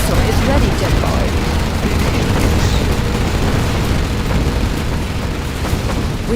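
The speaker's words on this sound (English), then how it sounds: "We have launched our nuclear missile." Nuclear missile launch in Command & Conquer Generals Zero Hour, a 4v4 match with China forces, heard as a loud continuous rumbling roar with booming blasts, dense and steady throughout with game voice lines over it.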